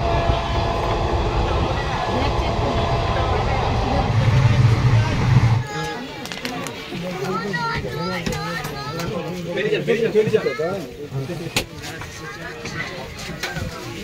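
A passenger train rumbles loudly and steadily for several seconds between Bardhaman and Bolpur Shantiniketan, then the clatter fades under nearby voices chattering in a crowded second-class chair car.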